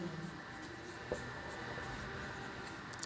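Pen or marker writing during a chemistry lesson on naming coordination complexes, heard as faint, steady scratching strokes with a few small taps over a low background hum.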